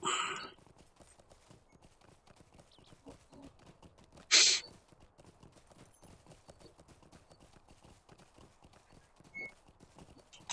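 Rhythmic clip-clop of horse hooves in the game Lord of the Rings Online steps along steadily, moderately close, with a brief brighter burst partway through and no talking.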